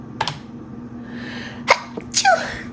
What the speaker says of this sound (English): it wouldn't be a video if I didn't sneeze.